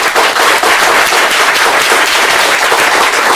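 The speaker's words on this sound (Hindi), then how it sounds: "एक जोरदार ताली खुद के लिए" Loud, dense applause from an audience at a motivational seminar, continuous clapping from a large crowd that fills the whole moment without any voices.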